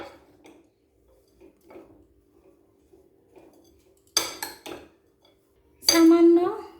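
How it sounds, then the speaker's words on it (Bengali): Oats omelette batter being mixed in a bowl, with sparse soft clinks early on and then louder bursts of spoon-on-dish clatter and scraping, close up, with no talking. "এরপর সব উপকরণ খুব ভালোভাবে মাখিয়ে নেব"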